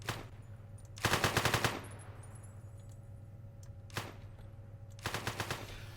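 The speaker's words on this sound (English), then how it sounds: "Oh, no, I'm getting shot at." Video game gunfire comes in rapid automatic bursts: a long burst near the start, then a short shot and another burst later, loud against a quiet background with no talk.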